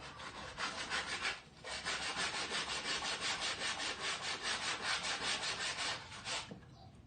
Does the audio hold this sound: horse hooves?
no